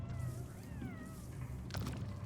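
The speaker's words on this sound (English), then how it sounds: "Meow, meow, kitty cats," Cats meowing in the video game Animal Well, a faint, drawn-out wavering meow over a steady low background hum.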